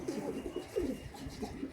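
Soft, repeated cooing from a Sialkoti high flyer pigeon, several close rolling coos in a steady rhythm with no talking.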